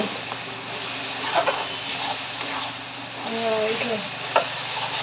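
A spoon stirs egg masala curry in a pan with light scraping and sizzling, while someone speaks over it.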